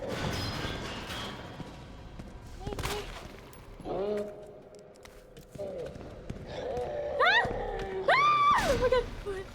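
Resident Evil 2 gameplay with scattered gunshots and thuds mixed with game effects and rising electronic tones, while a player talks over the action throughout.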